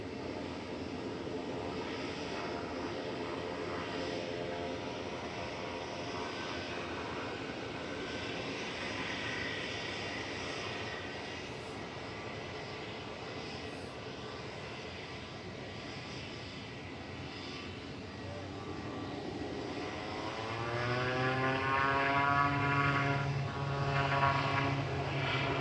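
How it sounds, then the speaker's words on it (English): An EasyJet airliner taxiing at Manchester Airport, a steady distant engine drone with a rising, throatier rumble toward the end as the aircraft draws nearer, with no voices. "EasyJet to Lisbon is also taxiing out."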